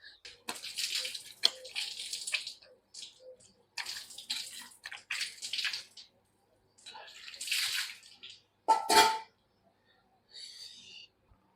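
Tap water runs in bursts while someone washes their face in a village home, splashing close by with short pauses between rinses and a brief louder gush near the end.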